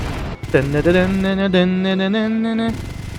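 Gunfire and explosions in GTA Vice City with a Kurtlar Vadisi mod: a loud, sustained, tonal blast with a ringing, harmonic tail after a short burst, followed by softer crackling. No one speaks.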